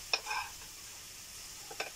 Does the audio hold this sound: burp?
no